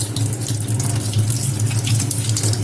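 Tap water runs steadily into a sink as vegetables are rinsed under it, a close, continuous splashing stream with no talking.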